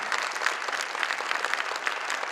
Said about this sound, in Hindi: तो एक बार शानदार जोरदार तालियां बजाकर दिखाइए।